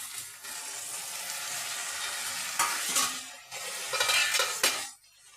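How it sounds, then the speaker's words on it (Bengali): Boiled yardlong bean seeds tip into a hot frying pan and are stirred, giving a soft sizzle with scraping spoon strokes against the pan in bursts before falling quiet at the end. "আমি বরবটির ডানাটা যে সেদ্ধ করে রেখেছিলাম এগুলো দিয়ে দিলাম"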